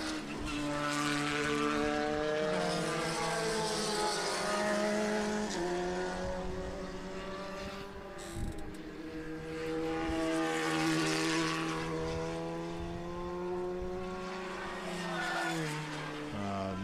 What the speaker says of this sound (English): Looks like we have about 5 minutes to go in this race here, Sam.